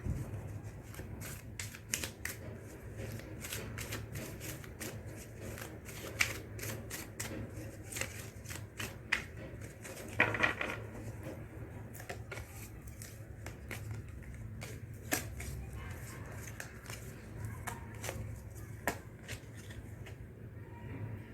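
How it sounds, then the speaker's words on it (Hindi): Tarot-style cards being shuffled and drawn one by one for a card reading, a quiet, steady run of rapid papery flicks and snaps lasting the whole stretch with no talking. "Let's take another card."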